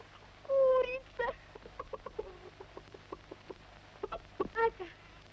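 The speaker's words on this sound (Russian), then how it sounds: "Курица это." A chicken clucks in a series of short, uneven bursts, with a couple of louder squawk-like calls at the start and near the end. The sounds are fairly close and clear against a low hum.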